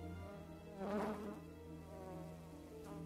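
Fly buzzing from the 1986 horror film The Fly: a continuous, close insect drone with a brief swell in loudness early on, otherwise steady and alone without any speech.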